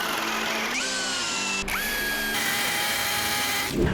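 A 20V cordless impact drill whirs up, pauses, and revs again several times, its pitch rising and settling with each burst, close and loud without talking.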